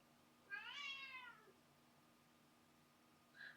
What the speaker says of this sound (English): could probably hear my cat in the background.